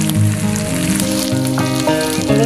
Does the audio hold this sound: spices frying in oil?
yes